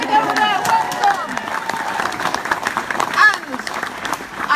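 Applause breaks out at a Labour Party rally in Beeston, Broxtowe, for a group of women councillors, a steady wash of clapping from the crowd mixed with indistinct voices and chatter throughout.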